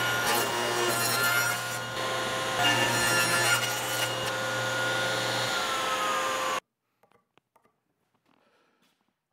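A saw cuts through a wooden chessboard's border on a miter sled, giving a loud, steady cutting roar with a whine for about six and a half seconds before stopping abruptly into near silence with a few faint clicks.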